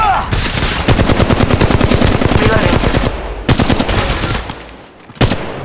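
Rapid automatic gunfire from the mobile battle-royale shooter Apex Legends Mobile, sustained bursts firing loud and close for several seconds, a short pause, then further sharp volleys.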